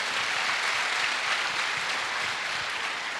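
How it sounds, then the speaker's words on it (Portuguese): A church congregation claps for the Lord, sending up a dense, even wash of applause that holds steady and loud from start to finish with no voices standing out. "dê uma forte salva de palmas ao Senhor"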